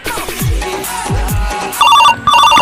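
A telephone rings with a bright electronic trill in short bursts near the end, after low whooshing and rumbling sounds.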